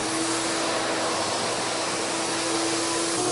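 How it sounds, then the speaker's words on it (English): A wet vac sucks leftover grit off a concrete floor, giving a loud, steady whooshing drone that holds unbroken throughout with no voices. "we're going to use this wet vac to remove those off the surface"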